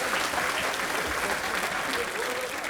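A crowd at the 2024 Jules Bianchi marathon prize ceremony applauds steadily for the podium of a category, with a voice talking over the clapping.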